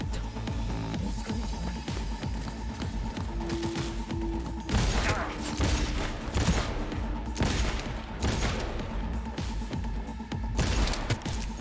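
Bursts of gunfire in the video game Cyberpunk 2077 crack repeatedly over a busy mechanical background, shots coming in irregular clusters without any talking.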